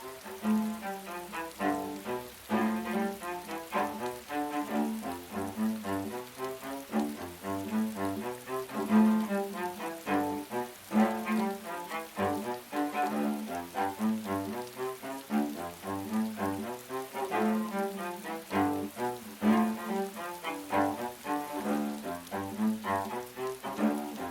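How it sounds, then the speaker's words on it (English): Steady rain patters and drips onto hard surfaces in a courtyard, a continuous wet spatter with a faint pitched, rhythmic tone running underneath. "I love the sound of rain in the courtyard."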